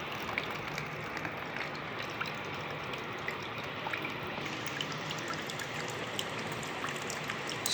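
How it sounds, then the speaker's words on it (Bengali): Coconut water pours and trickles steadily out of a freshly opened coconut, a soft continuous liquid stream heard close up with no talking. "নারকেলের জল বেরোলো"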